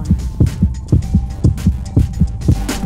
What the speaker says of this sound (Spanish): como el latido del corazón.